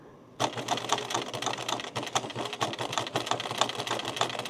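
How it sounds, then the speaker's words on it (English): A sewing machine running a 1/8-inch top stitch around the edge of fabric for a baby gift, starting abruptly and then a fast, steady mechanical chatter, close and continuous, no talking. "So I'm just running about 1/8 of an inch top stitch."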